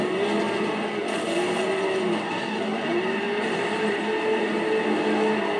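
A car drifts in the video game Driver with a constant engine drone and recurring rising and falling tire squeals, loud and continuous with no talking.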